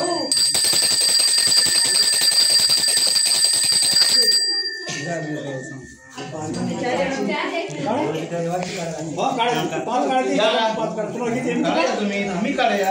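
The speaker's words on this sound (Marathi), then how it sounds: "घंटी वाजव" A handheld bell rings rapidly and continuously during Dev Diwali celebrations for about four seconds, bright and close, before voices take over and keep talking for the rest of the stretch.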